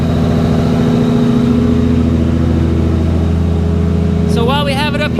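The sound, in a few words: Nissan Skyline R33 engine running with turbo spooling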